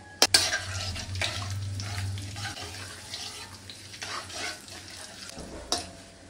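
Whole spices crackle in hot oil in a pot: cardamom, cinnamon, cloves, black pepper, cubeb, shahi jeera and bay leaf. A sharp metal clank at the start gives way to continuous sizzling and scraping stirs, with no talking.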